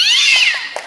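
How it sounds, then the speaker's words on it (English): A cat lets out a single loud, close, drawn-out yowl after being pelted with thrown Tic Tacs, with a few soft thumps as it fades. "I think you hit the cat, my dearest love."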